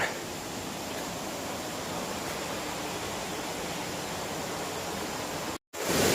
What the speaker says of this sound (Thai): ด้านล่างก็ เป็นน้ำ ตกครับ เสียงดังมาก